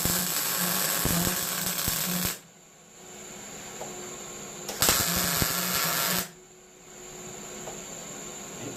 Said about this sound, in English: We're going to put some real quick tack welds on them.